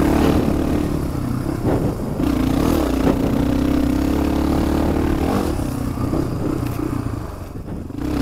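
Motorcycle engine during a wheelie on an Idaho off-road ride, a loud continuous mid-pitched drone with slight rises in revs and some clatter, close and steady throughout.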